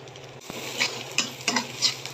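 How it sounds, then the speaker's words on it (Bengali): A pan of food fries with turmeric, chili powder and salt while a spoon stirs it, making a soft sizzle punctuated by a few sharp metallic scrapes and taps. "এটা একটু ভাজা ভাজা হইতে হইতে আমি এটার মধ্যে এখন দিব হলুদের গুঁড়া মরিচের গুঁড়া আর দিব লবণ"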